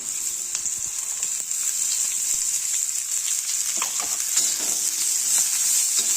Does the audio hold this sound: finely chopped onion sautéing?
yes